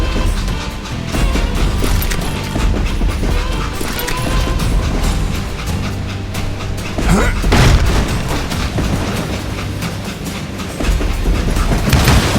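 Train in the video game Call of Juarez Gunslinger with the express car being detached: a loud continuous rumble of rolling rail cars and clanking wheels, with a heavy metallic boom partway through and battle noise layered over it.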